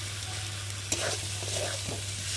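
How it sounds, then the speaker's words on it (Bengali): Spices fry and get stirred in a pan for red tengra fish curry, giving a steady close sizzle with occasional utensil scrapes and a sharp clink, over a low constant hum. "যতক্ষণ না মশলার গন্ধটা যাবে ততক্ষণ আমি ভেজে নেব"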